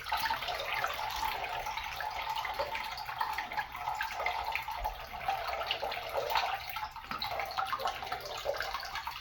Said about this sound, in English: So let me just flush this and see how it does.